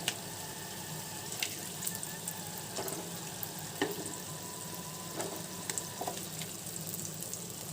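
Cooked eggs go into a ridge gourd curry frying in a pan, giving a steady sizzle with a few soft clinks and stirring scrapes and no talk.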